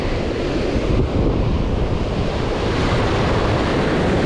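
Ocean surf rolls in steadily along a shoreline during spring bluefish fishing, a loud, continuous wash of waves mixed with wind buffeting the microphone.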